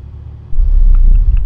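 A car drives up in the Security Booth video game, its engine rumble rising suddenly and holding loud and close for about a second.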